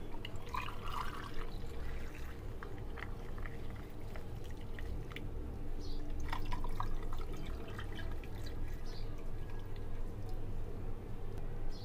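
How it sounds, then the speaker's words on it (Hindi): Cucumber juice poured into a glass of ice with lime and cucumber slices, a steady liquid trickle and splash that runs close and even for about twelve seconds, with no talk. "और अब मैं ये जूस डाल दूंगा।"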